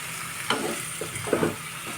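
Mixed vegetables fry in oil left over from frying fish over a low gas flame for a small-fish chorchori, with a steady soft sizzle broken by a few scraping stirs up close.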